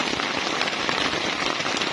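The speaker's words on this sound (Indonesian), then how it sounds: "kalau hujan deras ya ini." Heavy rain drums on a bushcraft shelter in the forest, a dense, continuous patter of close drops crackling on the surface with no pause throughout.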